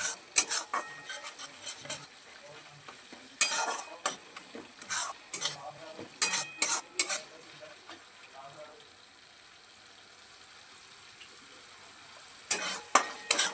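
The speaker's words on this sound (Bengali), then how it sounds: "লো টু মিডিয়াম আছে মশলাটা খুব ভালোভাবে কষিয়ে নেব" Spice paste for a no-onion, no-garlic dudh paneer fries in oil over a low to medium flame with a soft, low sizzle. Bursts of spatula scraping and clinks come in clusters, with a quieter stretch in the middle.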